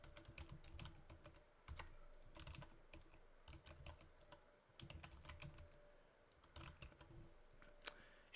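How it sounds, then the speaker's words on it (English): Quiet bursts of typing on a computer keyboard, quick clusters of soft key clicks separated by short pauses, close and alone. "now I can actually start typing away"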